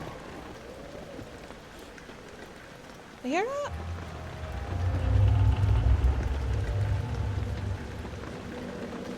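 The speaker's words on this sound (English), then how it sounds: "I think that's just how the rain hitting the window that sounds like that" Rain beats steadily against a window in the horror game Amnesia: The Dark Descent, a continuous soft patter that swells louder midway, with a voice briefly speaking over it.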